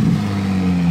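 A Porsche GT3 RS engine at a car-spotting event, a loud steady mid-pitched drone with a sustained low tone, heard briefly as the car goes by.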